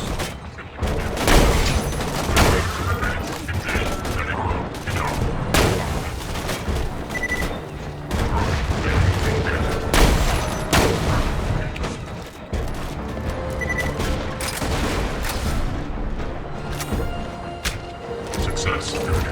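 Teddy SMG gunfire in Borderlands 2: loud, rapid bursts of automatic shots with explosive booms mixed in, repeating across the stretch while someone talks over the combat.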